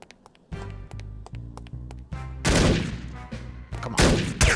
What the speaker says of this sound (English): You're shooting at me with an AK.